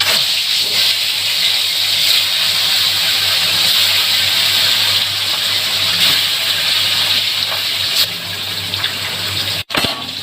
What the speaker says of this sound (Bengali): তেল গরম হয়ে গেছে, এবার আমি মাছটাকে দিয়ে দেবো